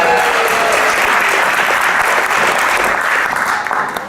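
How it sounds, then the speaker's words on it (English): Audience applauding a presenter at an app demo, loud dense clapping sustained without a break and easing slightly at the end. "another round of applause for being the first guinea pig up there"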